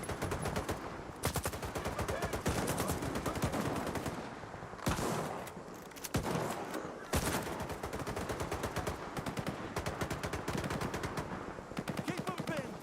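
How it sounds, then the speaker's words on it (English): Sustained, close automatic gunfire in S.T.A.L.K.E.R. 2: Heart of Chornobyl, rapid rattling rounds running almost unbroken across the whole stretch with only a few brief pauses. "Some of them are shooting, some of them aren't."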